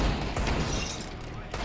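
Grenade blast in Counter-Strike: Global Offensive, a broad booming burst with a noisy, crackling tail that rolls on for over a second before fading.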